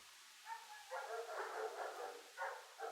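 Sled dogs bark and yip in short bursts while being harnessed, several sharp cries coming in quick clusters at moderate distance with brief pauses between.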